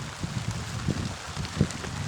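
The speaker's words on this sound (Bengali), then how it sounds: "বৃষ্টি পড়ছে আলহামদুলিল্লাহ। এইবার খুব জোরে" Heavy rain pours down outdoors in rural Panchagarh, Bangladesh, a dense steady hiss close around the listener, with no speech.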